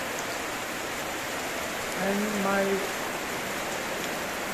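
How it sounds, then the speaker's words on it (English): Steady rain falls on a warm afternoon in Manipur, a constant even hiss throughout, with a brief voice speaking over it midway. "Now the rain has arrived"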